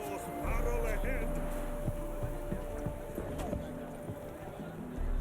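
A horse's hooves clip-clopping at a steady rhythm in The Witcher 3, close and moderately loud over a low game hum, with someone talking over part of it.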